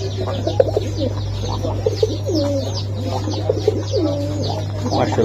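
Pigeons cooing at a pigeon seller's stall, with racer and local round-headed birds among them, giving repeated soft throaty coos that overlap over a low steady hum.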